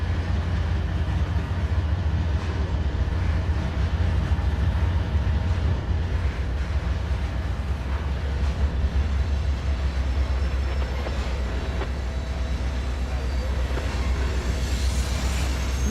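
Freight train pulled by five locomotives in the Trainz railway simulator, a steady loud rumbling engine drone with low hum, continuous throughout with slight variation and no talking.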